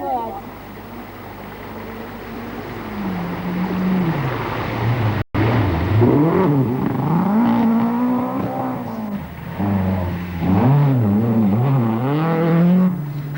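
A rally car in the 1985 Safari Rally climbs a hill, its engine droning and rising and falling in pitch as it labours and revs, loud and steady with a brief dropout.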